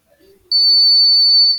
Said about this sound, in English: as you can see there's a beep sound